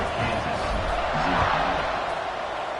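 A college football stadium crowd at a Kansas Jayhawks game forms a loud, continuous roar of massed voices, with a commentator talking over it.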